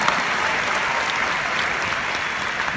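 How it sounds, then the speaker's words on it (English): Dense, steady applause from a large audience, a continuous wash of many hands clapping at an even level, with no individual claps standing out. "please give him a big round of applause for that"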